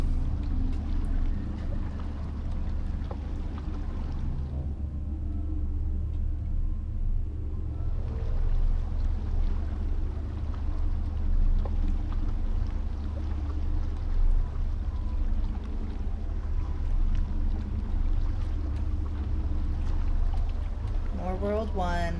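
Raft drifting across water in the Outer Wilds DLC, a steady low watery rumble of the vessel moving, mostly continuous with a brief lull partway through and background game ambience.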